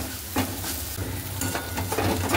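Spice paste sizzles and fries steadily in a pan while being stirred, with water and ground cumin added; continuous close frying hiss with soft scraping strokes of the spoon, no talking.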